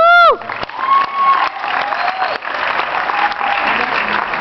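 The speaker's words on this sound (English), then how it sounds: "Yeah, feel free to clap for that." A festival audience at a Toronto Masala Mehendi Masti show breaks into loud, sustained applause and cheering, with whoops and shouts layered over steady clapping that carries close and full throughout.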